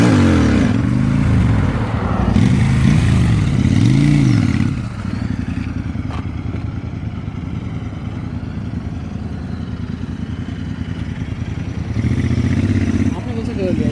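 A Royal Enfield Interceptor 650 motorcycle idles and revs close by, its exhaust note rising and falling in several blips before settling into a steady low idle rumble, with a voice talking over the start.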